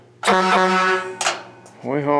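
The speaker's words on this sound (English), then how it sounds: "Mr. Heavy Chevy, he always rings the bell at the end of the shop day, but we honk" A rat rod's horn gives a long, loud blast with rich harmonics, a short break, then another shorter honk, sounding alone.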